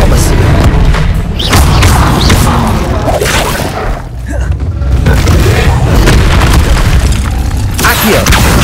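In Hogwarts Legacy, an Expelliarmus spell is cast during a Summoner's Court dueling match, producing loud booming magical blasts and thuds amid dense, continuous game combat noise.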